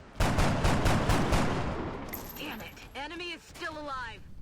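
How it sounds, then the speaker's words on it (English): Rapid burst of gunfire from a reaction shot in the video game XCOM Enemy Within, loud crackling volleys over the first two seconds, then fading as game sound effects and voice-like tones take over. "who immediately takes a reaction shot but misses her target"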